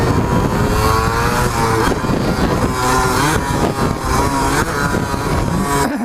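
Suzuki DS100 motorcycle engine revving hard and continuously through a wheelie attempt, a loud, close, steady roar with rising and falling pitch that never drops away.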